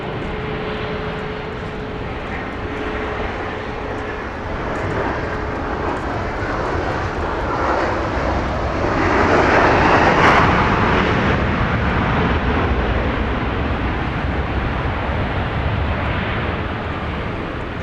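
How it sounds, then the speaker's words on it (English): A Boeing 737-800 airliner landing at Dallas Love Field, a loud steady jet roar heard from outside that swells toward the middle as the aircraft passes close, then stays broad and sustained. "This is going to be a 737-800 here at Dallas Love Field"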